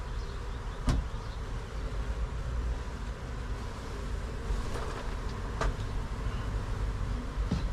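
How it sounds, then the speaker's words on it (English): Bees buzz inside a kids' play house during a removal, a steady low drone with faint louder passes as individual insects fly close, plus a few sharp knocks. "I do have quite a bit of bees back in here."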